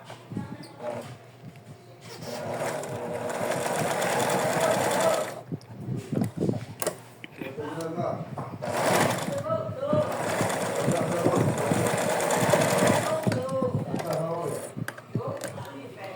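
Sewing machine stitching the top seam of a felt fox plush baby comforter, running in two long steady buzzing bursts with brief pauses between them, fairly close and loud, with no talking over it.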